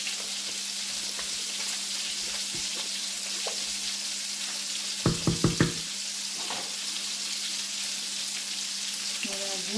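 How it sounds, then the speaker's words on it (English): Simmering meatball sauce in a pot, a steady low bubbling hiss broken by a few quick spoon knocks against the pot partway through and faint clinks. "I'm going to give the sauce a stir before I do that."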